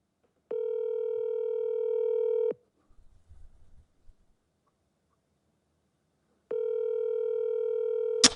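A telephone dial tone hums steadily and fairly loud in two long stretches. A quiet low rumble fills the gap between them, and a sharp click cuts off the end.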